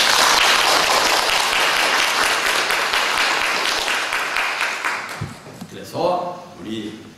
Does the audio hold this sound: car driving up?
no